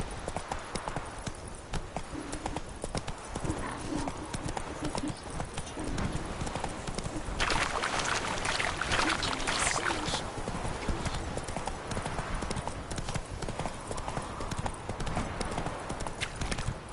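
Horse hooves clip-clop steadily and continuously while riding in the video game The Witcher 3. Outdoor game ambience sits underneath, and a louder rushing swell comes through the middle.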